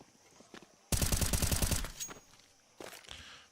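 A quick burst of rapid automatic gunfire rattles through a Counter-Strike match, followed by scattered footsteps and a lone later shot, fairly quiet overall and without talk.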